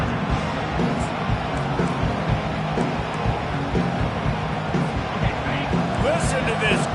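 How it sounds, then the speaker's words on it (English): A big stadium crowd roars steadily and loudly, a dense continuous wall of cheering with a commentator's voice talking over it. "Listen to this crowd just shaking the girders of this place"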